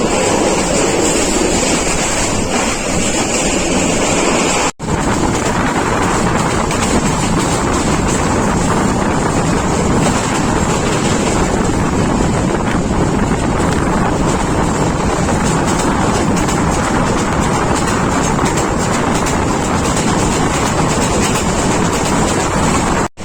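Sonar Bangla Express intercity from Dhaka to Chittagong running fast near Sitakunda, a dense, loud, unbroken roar of wheels and rushing air heard from inside the coach, with no one speaking.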